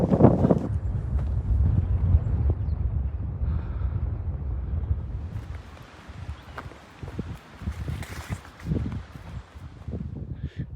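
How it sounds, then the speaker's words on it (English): Strong gusts buffet the microphone on a mountain trail, heavy low rumbling bursts that swell and fade, with rustling and footsteps mixed in. "It's probably way too windy."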